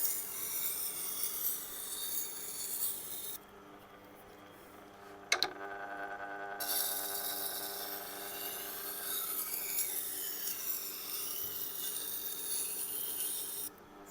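Steady rasping of a knife edge on a Tormek sharpener during light burr-removal passes, continuous and close, with a brief sharp click midway and a short quieter pause.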